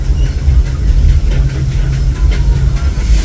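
Disneyland Railroad passenger cars pulled by the steam locomotive Ernest S. Marsh rolling along the rails, a loud, steady low rumble with faint rhythmic clicking of wheels, heard from on board.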